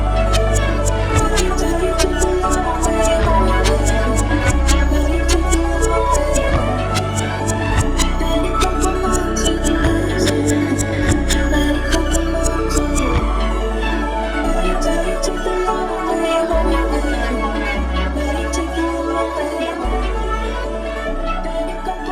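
A looping electronic beat with deep bass notes and a sweeping, whooshing flanger shimmer over the top, loud and continuous, with no voices.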